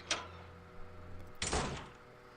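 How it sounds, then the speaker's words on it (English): A door unlocks in a video game hallway, heard as a short click followed a second later by a louder sliding, scraping mechanical release that fades out over a low ambient hum. "You hear an unlocking sound in the hall"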